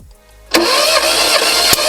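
A SEAT Ibiza MK1 with the System Porsche engine cranks over on the starter during a compression test. It is silent for half a second, then gives a loud, steady churning that runs to the end with a sharp knock near the finish.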